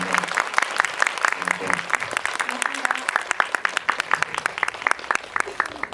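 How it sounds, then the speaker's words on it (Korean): Audience at a Korean cinema guest-visit screening event applauds steadily, a dense run of claps with scattered louder hits throughout, while a voice speaks briefly over it. "두 분께 큰 박수 부탁드리겠습니다"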